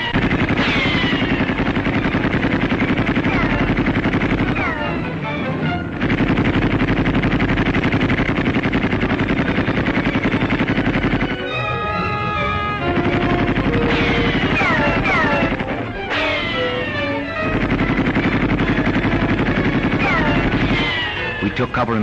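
Distant gunfire and machine gun bursts in 1938 battle footage from Taierzhuang, heard as faint scattered shots and rattling bursts under a dense, noisy old soundtrack, with a voice talking over it.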